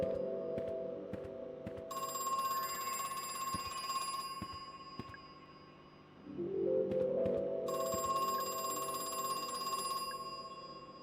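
An old-style telephone bell rings in the horror video game Crow Country, two long bursts of bright metallic trilling separated by a short pause, with a low ambient drone underneath and no voices.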